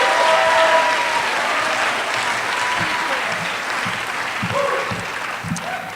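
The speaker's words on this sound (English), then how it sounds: "please give a big round of applause for George Shaw," A live audience at an Ignite Denver speaker event applauds George Shaw, sustained full-room clapping that slowly thins over six seconds, with faint voices and whoops underneath.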